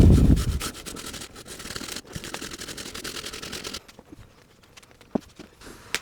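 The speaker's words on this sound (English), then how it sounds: "So coarse grater, grate it up." A raw potato is rubbed against a coarse grater in quick, raspy scraping strokes up close. The scraping is loudest at first, then fades to quieter scrapes and a few sharp clicks.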